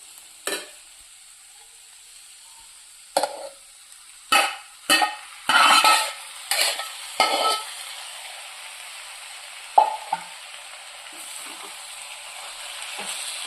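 Gongura leaves are stirred into a sizzling meal maker curry in a pan, with a quiet sizzle broken by a series of short, sharp bursts of stirring and scraping, roughly a dozen spread irregularly across the stretch.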